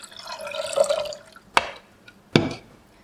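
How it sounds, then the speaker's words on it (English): Clean water poured into a rice steaming pot, a close, bright splashing pour lasting about a second, followed by two sharp metallic knocks from the pot. "you need to put clean water in here, not too much"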